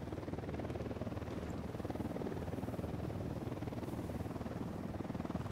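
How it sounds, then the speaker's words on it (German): A helicopter's rapid rotor chop throbs steadily at a moderate distance in the video game Ghost Recon Wildlands, a continuous pulsing drone with no voices. "Da vorne ist auf jeden Fall ein Heli."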